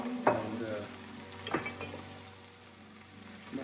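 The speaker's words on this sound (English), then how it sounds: "I'm just gonna go ahead and drop it in this pot. And it's popping." Swiss chard dropped into an already hot pot, crackling with a soft steady sizzle broken by a few sharp pops and clinks of metal, with faint background hum.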